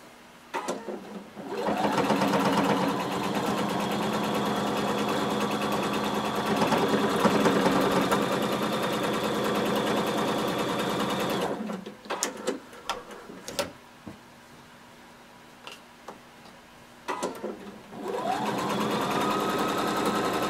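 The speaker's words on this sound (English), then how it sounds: "stitch to meet that other stitching line" A sewing machine stay-stitches a garment from a Simplicity pattern, running in a long steady whir for about ten seconds, then stopping for short bursts and clicks before resuming its continuous hum.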